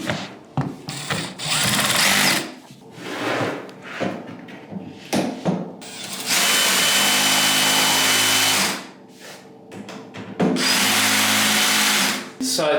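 A power drill drives screws into farmhouse-style nursery furniture during assembly, with loud whirring bursts of a few seconds each, separated by pauses filled with rustling, knocks and brief talk.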